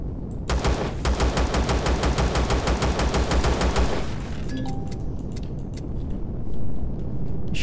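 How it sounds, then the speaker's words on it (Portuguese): Rapid automatic gunfire aimed at the player's ship in Empyrion Galactic Survival, a steady close burst of repeated shots for about four seconds before it cuts off, leaving quieter game ambience. "ele tá atirando na minha nave"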